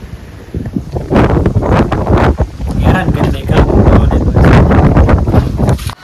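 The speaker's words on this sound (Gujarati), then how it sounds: "પવન જ ને વરસાદ પડતો આવે છે." Strong wind and rain lash a farm during a cyclonic storm, the gusts roaring and buffeting the microphone in loud, surging waves while a person talks over it.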